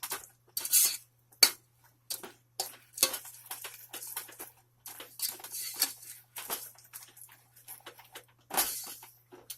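A utensil scrapes and clinks against a pan while caramel sauce is stirred, giving quiet, irregular taps and scrapes with short gaps between them; no one speaks.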